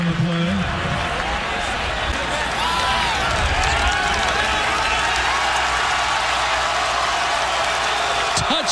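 A college football stadium crowd roars after a long touchdown run against Indiana, a loud, sustained wall of cheering and applause lasting throughout, with a voice speaking over it.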